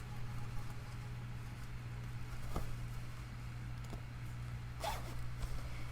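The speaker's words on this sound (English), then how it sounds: "But when it comes to zippers, especially the concealed zipper," A concealed zipper on a garment is pulled open or shut, with a couple of brief, soft rasps over a steady low room hum.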